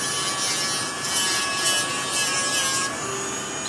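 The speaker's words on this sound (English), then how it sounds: "now I'm going to take my Dremel tool, fire it up sanding bit, low speed" A Dremel rotary tool whirs at low speed, its thin steady whine joined by a gritty rubbing as the sanding bit works against the shaft of a reed pen.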